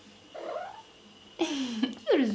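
A cat meows in rising, drawn-out calls over a low purring rumble, close to the listener, with three separate vocal bursts that grow louder toward the end.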